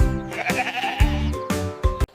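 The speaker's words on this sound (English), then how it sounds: "This is a lamb. So fluffy and sweet." A lamb bleats in several wavering, harmonic calls, close and clear, with short gaps between them.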